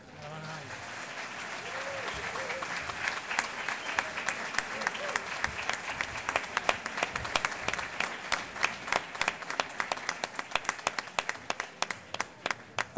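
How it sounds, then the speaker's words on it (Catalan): A hall full of people applauds the architecture and building-technology graduates at a diploma ceremony, dense clapping that builds and then thins into scattered individual claps near the end. "un fort aplaudiment per tots els titulats"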